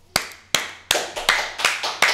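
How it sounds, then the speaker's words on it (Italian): A single person clapping hands, seven sharp close claps at an uneven, slowing then quickening pace, loud and alone. "Che stai, fai l'applauso da solo"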